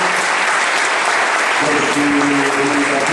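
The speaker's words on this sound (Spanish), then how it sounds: "Un gran aplauso a Rodolfo Gómez" Applause for Rodolfo Gómez at a 2017 fan meeting in Villarrubio, a loud, dense crowd clapping steadily throughout with voices faintly mixed in.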